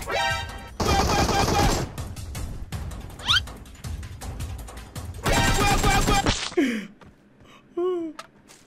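Bursts of gunfire in PUBG Mobile, the Ruins map: two loud sustained volleys about a second long, separated by scattered shots and game effects, with a voice talking between them.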